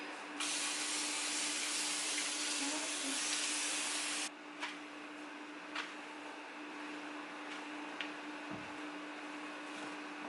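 A spray bottle wets a brown curly half wig on a mannequin head, making one long, close hiss of about four seconds, followed by quiet room tone with a few soft taps and handling noises.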